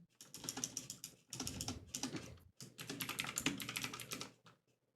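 Rapid close keyboard typing while jotting down notes, arriving in three dense bursts of clicking keystrokes separated by short pauses, alone without any talk.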